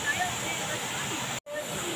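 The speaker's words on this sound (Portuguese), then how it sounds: "Estamos aqui na Cascata do Pincho" The Cascata do Pincho waterfall gives a steady, soft hiss of falling water that fills the whole clip, with one very brief dropout.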